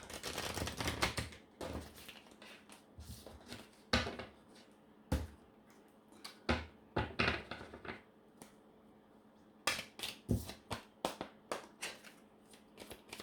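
Tarot cards shuffled and drawn for a love reading, with sharp snapping riffles and slaps coming in bursts and separated by short pauses, near and fairly quiet, with no voices.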